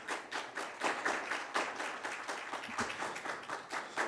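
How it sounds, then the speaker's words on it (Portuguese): An audience at a conference on software heritage applauds a department director called to the stage, a fairly faint but steady patter of many hands clapping in rough rhythm throughout. "Palmas para o Hamilton, por favor."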